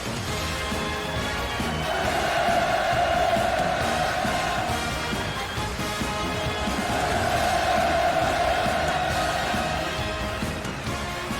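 Spectators at a commemorative performance for the war victory anniversary cheer and shout in a massed, sustained roar that swells twice, loud and continuous throughout.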